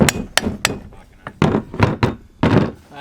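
Hammer blows on metal during a rough roadside bush-mechanics repair, knocking out suspension bushes: a series of sharp, loud, irregularly spaced strikes close by, with brief quiet gaps between them.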